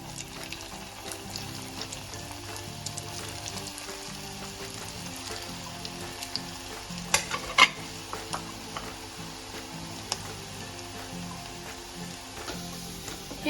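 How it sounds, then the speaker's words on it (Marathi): Small chicken balls sizzle in hot oil in a heated kadhai, a steady close frying hiss with faint crackles and a few louder pops midway, no talking. "आता आपण ही गोळी तेलात तळून घेणार आहोत."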